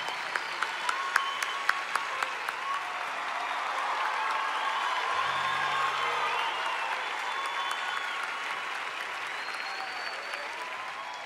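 A large concert-hall audience gives sustained applause for an orchestra, a dense, even wash of clapping that builds slightly and holds, with faint voices mixed in.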